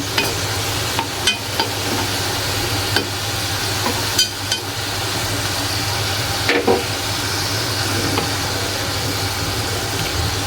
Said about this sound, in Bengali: এক পাশ হয়ে গেছে উল্টে পাল্টে ভেজে নিব সুন্দর করে